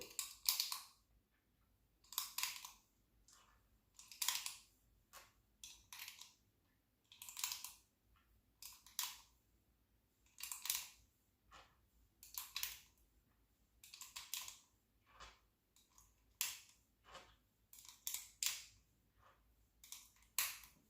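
Rounds are pressed one by one into a 15-round Taurus GX4 pistol magazine with an extension, making crisp, close metallic clicks at a fairly regular pace, about every second, over a quiet background with no talking.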